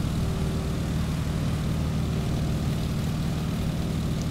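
A biplane's propeller engine in Microsoft Flight drones with a steady, loud, low hum and no breaks, no voices over it.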